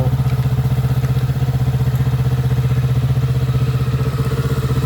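A 2022 Kawasaki Z650 RS parallel-twin engine idles steadily and close, with an even, throbbing beat and no speech over it.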